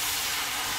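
Water poured into a hot pan of oil, garlic, onion and shrimp gives a steady, loud hiss of steam that fills the short moment without pause.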